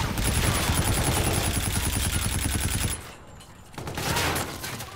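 Teammates fire rapid automatic bursts in a Call of Duty Infinite Warfare match, a steady loud stream of shots that cuts off abruptly, then quieter game ambience.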